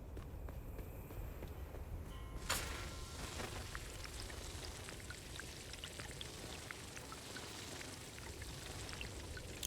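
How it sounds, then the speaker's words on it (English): In the Dune survival video game, literjons fill with water in a quiet, continuous pouring trickle, with faint tapping steps scattered through it and no voices. "Let me just fill my litter johns with water."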